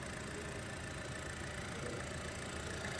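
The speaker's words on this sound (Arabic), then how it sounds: "محرك السيارة 1500 توربو مع جير كل سرعة دبل كروس." A 2024 MG RX5's 1.5-litre turbo engine idles steadily with a continuous low rumble and a faint mechanical whir, with no voices and no change in pace.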